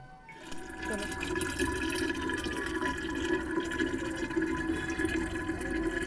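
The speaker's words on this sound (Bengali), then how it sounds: "এদিকে জল ভরে নিচ্ছি" Water runs steadily from a tap into bottles in a home kitchen, a continuous close rushing and splashing that fills the whole stretch without pause.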